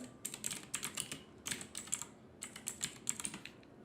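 Rapid keystrokes on a computer keyboard come in two close, quiet bursts of clicky typing separated by a short pause, with no voices.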